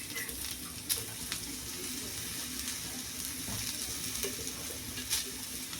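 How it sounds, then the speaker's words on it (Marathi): Ginger and garlic frying in oil in a pan, a steady soft sizzle running throughout with faint clinks, no talking. "आणि आता याच्यावर जाणार अद्रक लसण, याला पण भुजून घ्यायचं आहे आपल्याला।"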